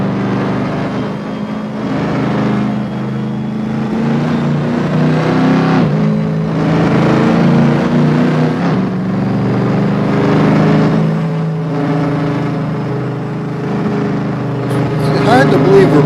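Car driving at high speed, around 120 miles an hour, a loud continuous engine hum with rising and falling revs and road noise, with someone talking over it.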